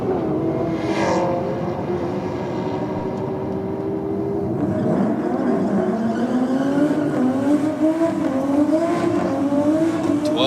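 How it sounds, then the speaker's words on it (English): A drag race car in the Rocket lane doing a big, strong burnout on a V8 versus I6 theme night, a loud sustained engine roar with tire noise that rises in pitch as it revs on and on. "Well, nice big strong burnout from the Rocket lane."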